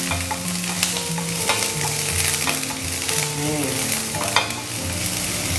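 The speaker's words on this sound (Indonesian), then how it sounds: "Bawang bombay selalu duluan karena dia lebih banyak ngandung air, makanya kita masak duluan" Sliced onions fry in a pan over low heat for a pumpkin and foie gras dish, a continuous loud sizzle with scraping stirring strokes and occasional clinks of the utensil against the pan.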